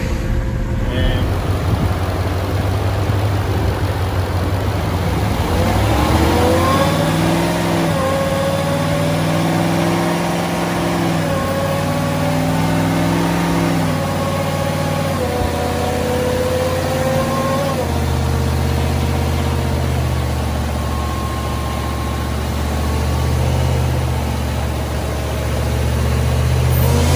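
A newly installed car engine runs during its first startup and break-in, a steady low idling rumble carrying on beneath continuous conversation.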